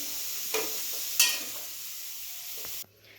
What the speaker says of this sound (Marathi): मी असं ते तेलामध्ये फ्राय करून घेतलाय आता याला काढून घेते